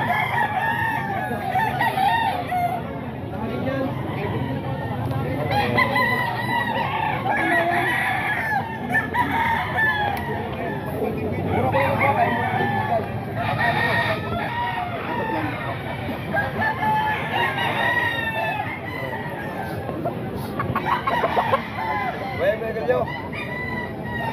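Busapon roosters crow repeatedly amid a busy cockfighting-bird market at a grotto, with steady crowd chatter and people talking nearby throughout.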